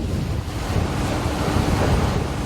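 Rough sea waves crash and strong wind buffets a fishing boat out at sea, a loud, dense, unbroken roar that fills the short stretch with no speech.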